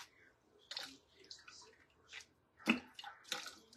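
Water squirting out of a paintbrush as it is washed: soft, wet, spurting squishes in irregular bursts, close and quiet, with a few faint splashy drips between them.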